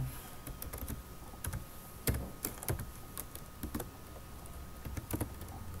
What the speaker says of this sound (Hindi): ठीक है, टाइप कर लेते हैं प्रोग्राम को।